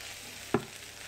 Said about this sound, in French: Avec ma petite cuillère fourchette en bois je vais venir mélanger un peu plus pour que l'huile d'olive se mette dans toutes les pommes de terre.